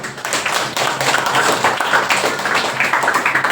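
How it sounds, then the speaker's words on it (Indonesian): Catholic congregation at a Mass claps after a baptism ceremony, a dense, loud, sustained burst of many hands clapping with rapid rhythmic texture. "Kita beri tepuk tangan."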